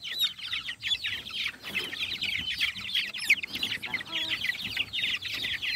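Sebright cross chickens cluck and chatter steadily on moving day, a dense, close flock of busy clucks and short squawks with no talk over them.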